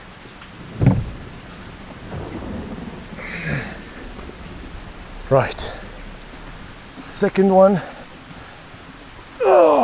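Heavy rain pours steadily around a Lamborghini Aventador Ultimae Roadster by Novitec, with thunder tagged alongside the broadband hiss; people talk and exclaim intermittently over the downpour.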